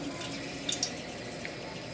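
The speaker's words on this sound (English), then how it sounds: "you throw a green onion like this. You see how they're bubbling?" A green onion bubbles and sizzles in about half an inch of hot cooking oil in a pan, a steady crackling fizz with a few sharper pops.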